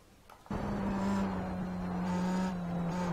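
Pro Mazda open-wheel race car on track at Circuit de Spa-Francorchamps, engine starting abruptly after a brief quiet moment then holding a loud, steady high-revving drone close to the listener, with slight pitch wobble through gear and throttle changes.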